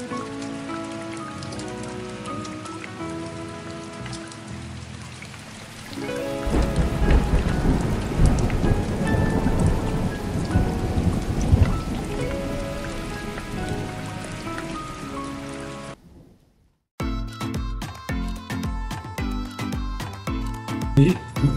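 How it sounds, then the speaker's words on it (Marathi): Heavy rain pours steadily in Krabi, Thailand, building in intensity with rumbles of thunder, loud and close throughout, with a brief drop before the downpour resumes. "आणि आता बघा क्राबेमध्ये सुटलाय जोरात पाऊस आणि वाढतोय तो."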